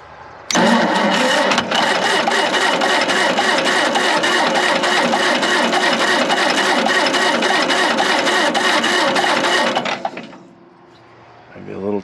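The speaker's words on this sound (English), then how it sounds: "Let's wake up some neighbors and get this dozer started." A 70-year-old barn-find bulldozer engine cranks and catches, then runs loud and close with a steady rapid chugging knock for about ten seconds before cutting out and fading to near silence.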